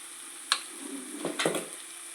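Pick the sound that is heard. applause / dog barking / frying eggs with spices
frying eggs with spices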